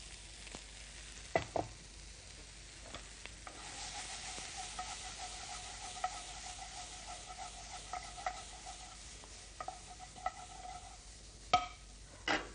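Mussels frying in a pan on a cooking show set a steady sizzle that fills the clip, with a few sharp clinks and scrapes of stirring scattered through it; nobody speaks.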